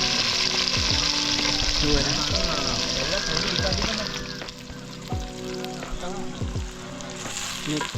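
Onion and tomato fry loudly in hot oil in a pan outdoors by a lake, with a steady, close sizzle throughout. A stick stirs the pan in occasional scrapes, and people talk over the frying.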